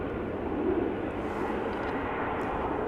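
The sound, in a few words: Embraer airliner taxiing at Amsterdam Schiphol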